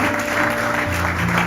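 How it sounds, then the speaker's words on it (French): A church congregation claps and cheers for the Lord during a sermon, a dense, steady wash of applause with crowd voices mixed in, loud and continuous throughout. "Est-ce que tu peux acclamer le Seigneur?"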